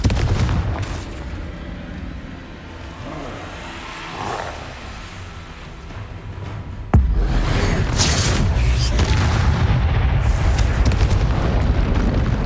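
Confringo fire spell exploding in the Hogwarts Legacy video game: a sudden loud blast that cuts in sharply, then a sustained roaring, crackling burst that continues at high level.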